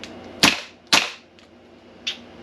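A WE Honey Badger gas blowback airsoft rifle firing three sharp cracking shots close by, the first two about half a second apart and a softer third after a pause, with no voices.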